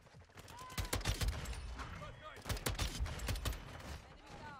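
Rapid bursts of SO-14 rifle fire in Modern Warfare 2, loud and close, with clustered shots separated by short gaps.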